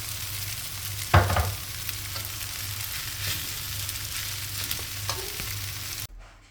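Egg being scrambled in a hot pan, continuous sizzling and frying with stirring scrapes, one louder burst early on, then the sound cuts off abruptly near the end.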